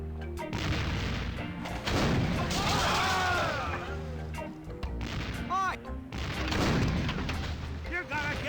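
Cannon fire in The Curse of Monkey Island sounds as heavy booms and crashes repeating across the scene, mixed with game music, voices and other effects.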